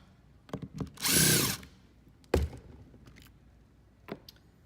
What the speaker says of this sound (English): Step one is going to be removing the 4 screws from the top of the pinner